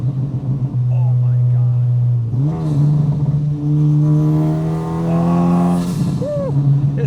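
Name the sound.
600HP Honda Civic Type R engine revving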